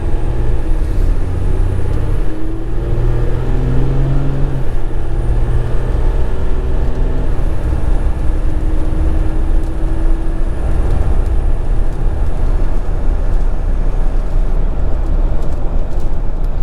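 A RAM EcoDiesel 1500 turbo diesel pickup truck driving, its engine a loud, continuous low drone with rising and falling tones as it accelerates, steady throughout with no talk.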